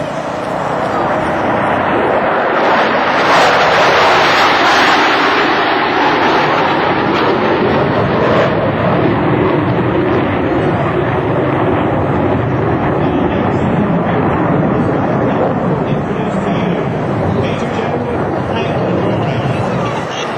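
Four F-16 Fighting Falcon fighter jets pass over an Air National Guard open house, producing a loud, broad, sustained jet roar for about twenty seconds, with crowd voices mixed under the noise.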